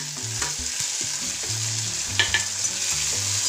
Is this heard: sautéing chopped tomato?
yes